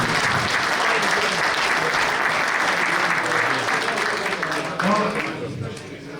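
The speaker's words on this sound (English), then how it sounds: "I think our quarterfinalists need a big hand of applause" Audience applause for the quarterfinalists at an 8-ball pool tournament, a loud sustained burst of many hands clapping that carries steadily and begins to thin out near the end.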